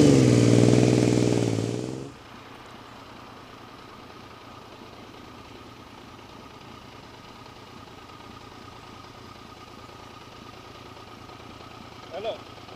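A motorcycle engine idles and runs steadily on an uphill forest track, a low continuous drone after a brief louder burst at the start, with a small rev near the end.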